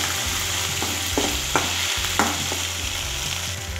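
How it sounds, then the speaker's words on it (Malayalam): Crushed ginger, garlic and green chilli fry in hot oil for a liver roast, giving a loud, close, continuous sizzle broken by a few scraping stirs. "എണ്ണ ചൂടാകുമ്പോൾ നമ്മൾ ഇഞ്ചി വെളുത്തുള്ളി ഇതിലേക്ക് ആഡ് ചെയ്യുവാണ് ചതച്ച് വെച്ചിരിക്കുന്നത്."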